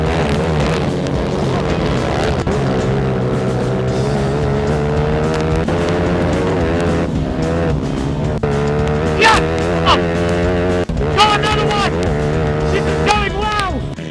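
Race cars in a budget motorsport race roar loudly and continuously close by, engines rising and falling in pitch through gear changes, with a voice speaking over the noise.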